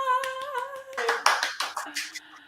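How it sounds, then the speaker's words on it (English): Clapping follows a cello étude performance, a small number of hands striking in an uneven burst over a sustained tone, with a voice calling out alongside. "Round of applause!"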